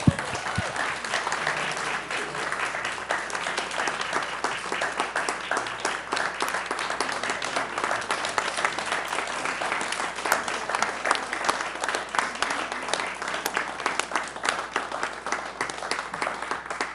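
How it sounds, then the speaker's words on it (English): Steady applause from the audience at a school board meeting, a dense, even wash of clapping that holds at moderate loudness throughout without a break. "How about another round of applause?"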